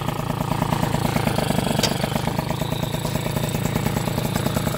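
A scooter engine idles with the choke on just after starting, giving a close, even, rapid putter that stays loud and steady throughout, with a faint clink partway through.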